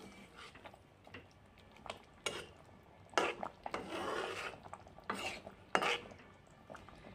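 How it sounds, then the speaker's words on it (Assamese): Fish pieces for an Assamese bolihora fish curry being stirred in the pan, with several separate scraping, rubbing bursts of spoon against metal spread across a quiet background, the longest in the middle. "এতিয়া দি আছোঁ ইয়াতে মাছখিনি ওপৰত দি দিলোঁ আৰু মাছখিনি দি আৰু এবাৰ লৰাই দিলোঁ"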